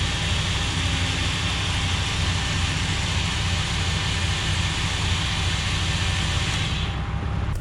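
A Jeep Cherokee XJ engine idles with most accessories on, producing a loud, steady, unbroken rumble close by throughout, with no talking.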